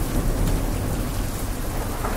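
Heavy rain pours down in a dense, continuous roar, with deep rumbling thunder rolling underneath, loud and close with no voices.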